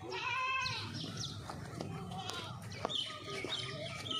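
Goats bleating close by in a farm pen, with several wavering calls early on and scattered farmyard sounds and movement after.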